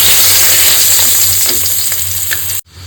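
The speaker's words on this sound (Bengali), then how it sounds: "ওই মাছ ভাজা তেলেই আমি মেথি এবং তেজপাতা ফোড়ন দিয়ে দিলাম।" Fenugreek seeds and bay leaves hit hot oil left from frying fish, making a loud, dense, continuous sizzle for a few seconds before it cuts off abruptly.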